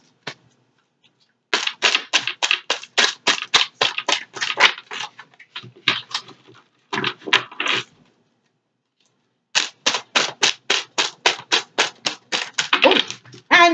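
A deck of playing cards being shuffled by hand, heard as close bursts of rapid riffling clicks in several runs with short pauses between them.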